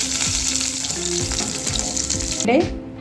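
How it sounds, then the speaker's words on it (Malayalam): Coconut pieces fry in ghee for broken wheat payasam, a loud, steady sizzle close by with stirring scrapes, ending in a brief clatter. "ഇതിലേക്ക് തേങ്ങാക്കൊത്താണ് വറുക്കാനായിട്ട് ചേർത്ത് കൊടുത്തിരിക്കുന്നത്. ഇതും ഒന്ന് ചുവന്ന് വരുന്ന വരെ നമുക്കൊന്ന് വറുത്തെടുക്കാം."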